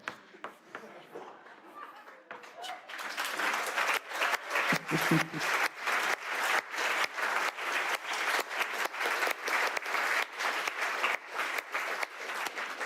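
Lecture audience bursting into sustained applause, many hands clapping steadily at moderate loudness after a few scattered early claps, continuing without talk.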